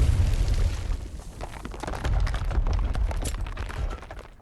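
A frag grenade goes off in a voice-acted Arknights story, a loud booming blast with rumbling low end and a crackling, scattered tail that carries on for several seconds.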